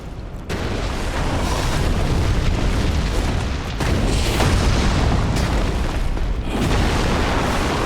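A video game boss fight in its second phase roars with loud, continuous explosions and fire, a dense booming rumble that swells and briefly dips without pause.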